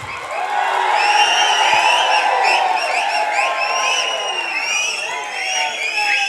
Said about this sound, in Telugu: లేచి నిలబడి గట్టిగా చప్పట్లతో కృతజ్ఞతలు, కళాభివందనాలు తెలియజేయాలి.